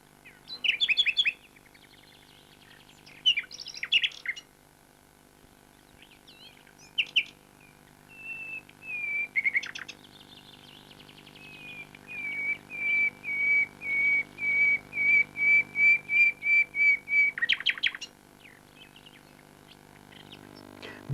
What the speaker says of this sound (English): nightingales are best known for their rich song, which is indeed often heard at night